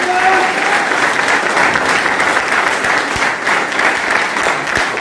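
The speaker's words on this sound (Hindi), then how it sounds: "एक बार सारे अचीवरों के जोरदार ताली मैं चाहता हूं।" Loud, sustained applause from a large crowd in a hall for the achievers at a business event, dense continuous clapping that fills the whole stretch.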